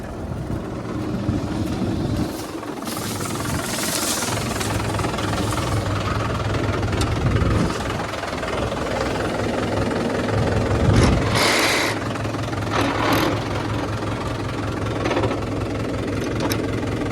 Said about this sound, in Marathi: ट्रॅक्टरच्या सहारेसवरती आपण याची स्पीड पाहू शकता की किती स्पीडने फिरत आहे तर चला तर आपण याचा लाईव्ह डेमो पाहूयात